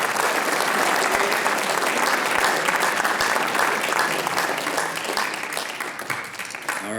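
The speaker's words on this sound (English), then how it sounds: "Another quick round of applause for Katie." An audience at a writers expo claps in a dense, sustained round of applause that stays loud and even before tapering slightly at the end.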